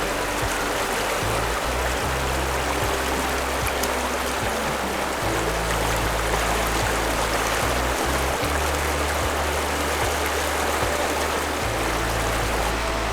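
The Oconoluftee River flows as a creek along a trail in Great Smoky Mountains National Park. Its loud, constant rushing and gurgling is heard up close and continues without a break.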